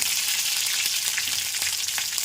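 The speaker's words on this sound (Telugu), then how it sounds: "ఆయిల్ పోసాను కదా, ఇప్పుడు పచ్చిమిర్చి వేస్తున్నాను" Green chillies sizzle and crackle steadily in hot oil in a pan, a close, continuous frying hiss with small pops, no voices.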